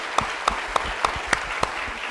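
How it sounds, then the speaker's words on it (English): Audience applause at an agency all-staff meeting for a panel of speakers, heard as steady clapping with a few sharper, regularly spaced claps standing out above the crowd, moderately loud throughout. "Please give them a round of applause."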